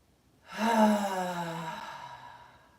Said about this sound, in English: Full breath in. Exhale out of the mouth.